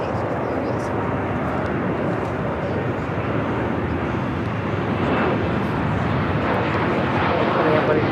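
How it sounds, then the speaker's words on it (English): A Delta Airlines Boeing 737-900ER takes off at LAX, its jet engines roaring in a steady broadband rush that builds slightly in loudness, with a voice talking faintly underneath. "This is Delta Airlines 811 taking off to Miami, Florida on a 737-900ER."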